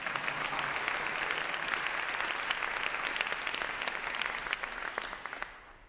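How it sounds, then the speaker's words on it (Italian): Steady applause from a concert audience at a big band performance, dense and continuous clapping that holds evenly before fading out at the very end. "oggi è debuttato al flauto, quindi altro applauso"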